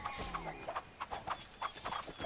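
Horses charging into an attack in the Circle Empires strategy game, a quiet flurry of overlapping hoofbeats and clip-clop thuds in a fast, uneven rhythm, with no talk.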